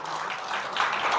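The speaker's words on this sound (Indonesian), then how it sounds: "Tepuk tangan bagi Tuhan." Congregation applauding at a church sermon, a steady, dense wash of clapping filling the room at moderate volume for the whole moment, swelling slightly toward the end.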